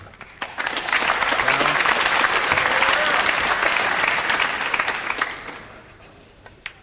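Crowd applause at a 2003 World Pool Championship match featuring Earl Strickland, dense and steady clapping from an indoor audience that swells quickly, holds for several seconds, then tapers off with a few stray claps.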